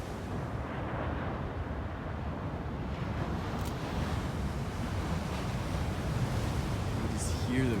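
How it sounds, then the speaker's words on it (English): Huge waves roll in and smack against a black coastline in Iceland's geopark, a dense, continuous roar of surf with a steady wash of noise, heard from a distance on a windless day, with a brief voice near the end. "You just hear the waves."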